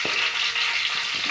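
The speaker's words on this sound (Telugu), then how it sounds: "పోపు గింజలు కొంచెం ఫ్రై అవ్వాలి." Mustard and cumin seeds frying in hot oil for a Telugu tempering, with green chillies and onions going into the pan. The sizzle is steady and close, a dense hiss with faint crackles and no voices.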